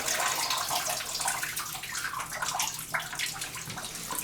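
A hotel bathroom tap in a New York Marriott runs steadily with a dense, close hiss of flowing water that lasts the whole stretch, with a faint clunk near the end and no talking.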